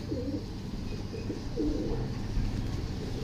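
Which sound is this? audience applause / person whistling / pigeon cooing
pigeon cooing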